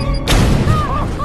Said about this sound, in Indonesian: kotak surat meledak